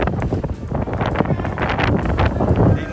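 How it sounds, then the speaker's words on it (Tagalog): Strong gusts buffet the microphone at an open hillside viewpoint near Mirador, a loud continuous roar with rustling bursts and no clear talk. "Lakas ng hangin"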